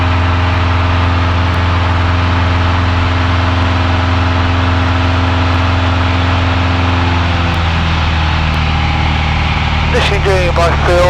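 A light aircraft engine drones loudly and steadily in flight at about 2,300 RPM, a constant low hum from inside the cabin, with a faint change in tone near the end.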